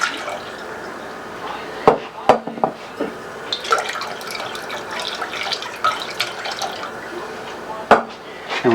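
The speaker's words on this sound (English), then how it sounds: "take our clam juice, all 3 bottles, dump it in a heavy saucepan" Clam juice from three bottles poured into a heavy saucepan for New England clam chowder, a steady liquid splash with a few sharp clunks of bottle against the pan along the way.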